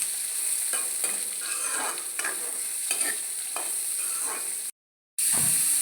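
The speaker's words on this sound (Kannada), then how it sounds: "ಸ್ವಲ್ಪ ಫ್ರೈ ಆಗಲಿ. ಕಾಯಿ ಮೆಣಸು, ಸ್ವಲ್ಪ ನೀರುಳ್ಳಿ" Green chillies and onion fry in a pan for shavige bath, a continuous close sizzle with repeated scraping stirs at a regular rhythm, a brief dropout, then the frying resumes.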